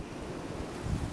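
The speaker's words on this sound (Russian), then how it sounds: "ураганный ветер поднимается" Strong gusting wind rushes across a garden, a broad roaring noise buffeting the microphone with a louder low gust near the end, no voices.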